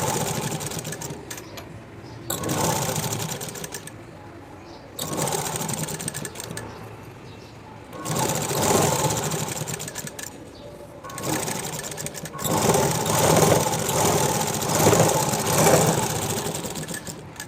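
An electric sewing machine stitches a blouse's waistband and lining, running in repeated bursts of steady whirring with short pauses between runs, close and continuous.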